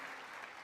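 Sustained audience applause fills the chamber during a presidential address to a joint session of Congress, a steady wash of many hands clapping, somewhat distant and faint.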